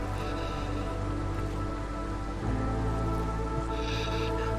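Steady light drizzle in the video game Against the Storm, a soft continuous patter of rain with faint game tones and a brief chime near the end.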